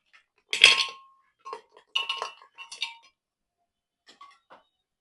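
A metal spoon stirs ground spices and oil inside a pressure cooker, giving a few sharp, separate clinks and scrapes against the pot with near silence between them.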